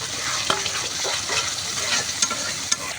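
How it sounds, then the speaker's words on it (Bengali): Spice paste of chilli powder and salt sizzles with a little water in a pan, a continuous crackling fry broken by sharp scraping stirs from a spoon. "এবার অল্প পরিমাণে পানি দিয়ে মশলাটা ভালোভাবে কষিয়ে নিব"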